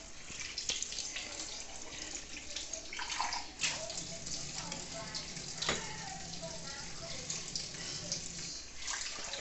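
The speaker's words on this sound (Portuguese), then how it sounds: "Vai virando a água lá dentro da pia" Tap water running into a kitchen sink while a child rinses soapy dishes, a steady splashing flow with occasional clinks and louder splashes throughout.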